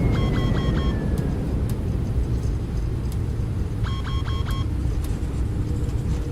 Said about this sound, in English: Reversers around. 80 knots and manual braking.